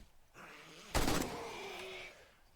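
Armor piercing gunshots fired in 7 Days to Die, a single loud sharp report at about one second that rings out and decays slowly over a quieter background.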